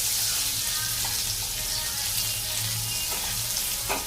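Chopped onion sizzles in hot oil in a pan for upma, giving a steady, close frying hiss with a few light clinks of stirring.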